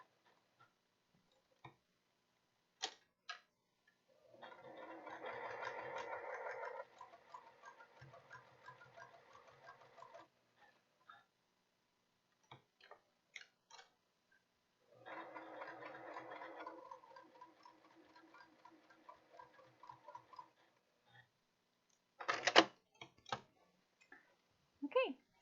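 Home sewing machine top stitching fabric on a knitting project bag, two bursts of steady whirring stitching of a few seconds each, separated by quiet pauses, clicks and handling noises.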